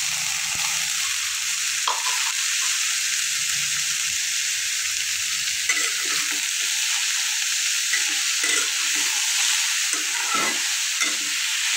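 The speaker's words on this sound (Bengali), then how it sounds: "পেঁয়াজ আর করলা একসাথে খুব সুন্দরভাবে ভাজা ভাজা হয়ে যায়" Onion and bitter gourd fry steadily in a pan, a constant bright sizzle with occasional clinks and scrapes of stirring, close by with no talking.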